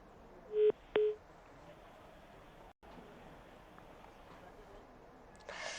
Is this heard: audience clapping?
no